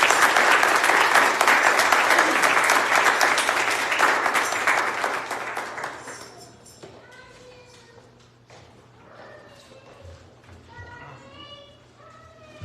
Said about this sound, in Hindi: हम खुदा के कलाम की और खुदा के दास पास्टर डीएम बेंजामिन जी को जोरदार तालियों में स्वागत करेंगे